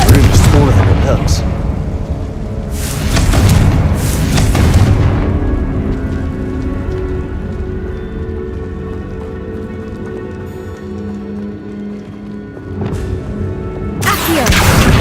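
Repeated Confringo blasting spells exploding in Hogwarts Legacy, several heavy booming bursts spaced a few seconds apart with rumbling tails, a spoken voice occasionally mixed in.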